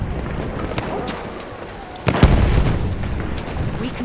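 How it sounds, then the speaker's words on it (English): A grenade goes off in Battlefield 1 on the Cape Helles map, a single sharp blast at mid-clip followed by a rumbling tail, loud and fairly near against steady battlefield noise. "Throwing grenade! Throwing grenade! Watch it!"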